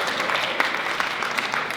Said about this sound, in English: let's give ourselves a round of applause for surviving